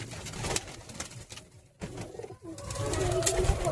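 A pigeon of Andhra or Ablook Dobuz stock coos in a few close, throaty bursts, with handling noise and rustling between calls.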